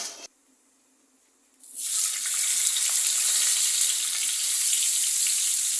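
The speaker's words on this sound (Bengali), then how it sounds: "বন্ধুরা মাছগুলো আগে ভেজে দিচ্ছি।" Pieces of silver carp fish frying in hot oil, starting after a short quiet pause and then sizzling loudly and steadily with a dense crackling hiss throughout.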